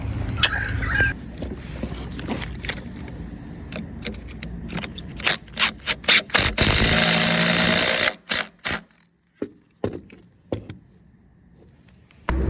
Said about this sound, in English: Now I'm going through with a bigger bit, an 8mm bit